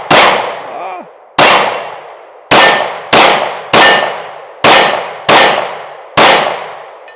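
Eight sharp pistol shots from a Smith and Wesson Shield Plus ring off a steel target, each a loud metallic clang with a ringing decay, fired at an uneven pace over several seconds.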